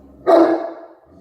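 A single loud, close bark from a dog during an indoor training lesson, sharp onset trailing into a short fading tail, heard alone without talk.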